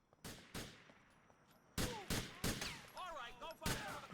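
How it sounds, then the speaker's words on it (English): Several sharp gunshot bursts in a video game, loud and close, arriving in irregular clusters with short quiet gaps, layered over faint game ambience. "amazed that our first death in this game was from gunfire, not a car"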